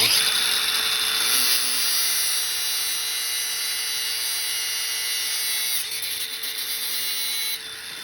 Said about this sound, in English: I'll take just a regular grinder with a cutoff wheel.